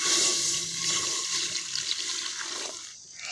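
Water splashes and swirls continuously as rice is washed for kheer, a steady near wash of liquid sound with no talking, easing off toward the end.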